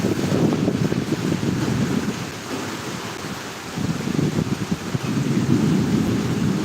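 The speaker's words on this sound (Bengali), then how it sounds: "বৃষ্টি শুরু হয়েছে এবং মেঘের গর্জনও শোনা যাচ্ছে এবং হালকা বাতাসও হয়েছে" A thunderstorm with rain and a light wind brings deep, rolling thunder rumbles that swell, dip, then build again over a constant hiss of rainfall, with no voices.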